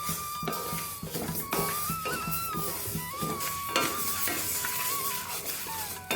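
Laddu mixture being stirred and roasted in a pan, a steady scraping of the spoon against the metal with soft sizzling throughout, a thin tonal whine running underneath.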